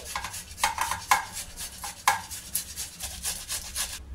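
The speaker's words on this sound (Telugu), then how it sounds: "పీల్ తీసిన బాయిల్డ్ పొటాటోను తీసుకొని ఈ మిక్సింగ్ బౌల్లోనే తురుముకోవాలి" Boiled, peeled potato rubbed against a grater into a mixing bowl, giving close, dry rasping strokes in uneven bursts with short pauses between them.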